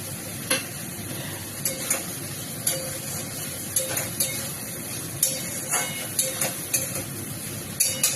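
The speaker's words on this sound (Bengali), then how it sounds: "আমার মশলা ভালোভাবে কষানো হয়ে গেছে, আমি এবার আলু দেবো।" Potatoes go into a pan of fried spice paste and get stirred, a steady frying hiss running underneath repeated scraping clicks of the spoon throughout.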